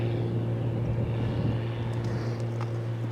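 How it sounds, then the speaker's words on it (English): A biplane passes overhead on a coastal walk between Perranporth and St Agnes, its steady propeller engine drone holding loud and continuous throughout with a low humming tone and no talking. "As you could hear, another biplane just passing by me."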